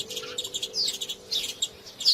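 Sparrow chirping in quick, bright bursts, a run of short close tweets repeating in an uneven rhythm with brief gaps, alone and clear.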